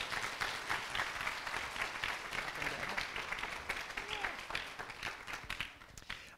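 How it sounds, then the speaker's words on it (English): Applause from an audience at a teachers' celebration event in Grand Rapids, Michigan, a sustained dense patter of clapping that tapers off toward the end, with faint voices mixed in. "let's give Cindy one last round of applause from me"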